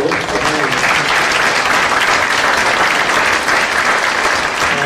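A hall audience at a joint political talk concert gives sustained, dense applause to welcome a Bareun Party supreme council member introduced from the back rows. The clapping is loud and steady throughout, with no voices rising above it.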